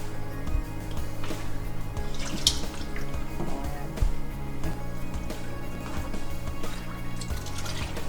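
Milk pours from a container into a bowl of pudding mix for an Oreo dirt cake, a soft continuous liquid stream with faint splashes and drips, close and fairly quiet, with no talking.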